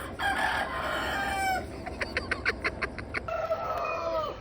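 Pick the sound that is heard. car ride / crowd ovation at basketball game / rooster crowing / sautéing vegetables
rooster crowing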